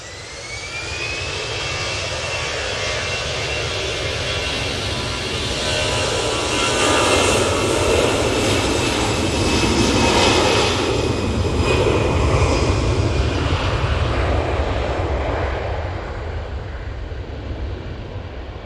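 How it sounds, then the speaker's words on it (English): An EasyJet airliner departs for Malta from Manchester Airport, a loud, sustained jet engine roar that swells to a peak midway and slowly fades as the plane climbs away. "And that is the EasyJet to Malta."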